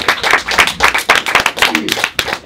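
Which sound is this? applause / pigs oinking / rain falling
applause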